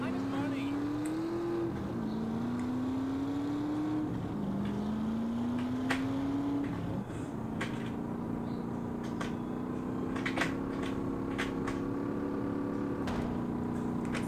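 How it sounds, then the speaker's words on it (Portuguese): Motorcycle engine in GTA San Andreas Definitive Edition, a steady buzzing drone that rises in pitch with each gear, drops at shifts and then settles into a sustained tone, with a few sharp clicks over it. "Essa moto tem um barulho legal."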